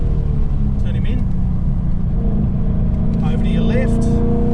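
A Ford Mustang GT's engine drones steadily and loudly while lapping a race track, a continuous rumbling note with slight pitch shifts as the driver gets back on the gas, with faint voices over the top.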